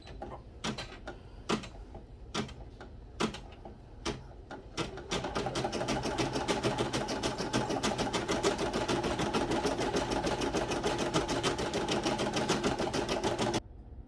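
An embroidery machine stitching out a monogram for a sticky note holder: a few separate mechanical ticks give way to a dense, rapid run of stitching clatter that holds steady and loud until it stops near the end.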